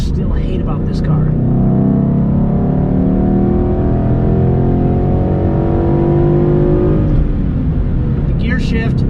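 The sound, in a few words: 2012 Mustang GT engine, hard acceleration in third gear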